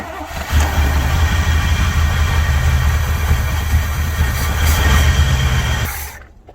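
A 1969 Chevrolet Chevelle SS V8, restored after decades of storage with a freshly tightened alternator belt, starts and runs steadily at a loud, close idle for about six seconds before cutting off abruptly.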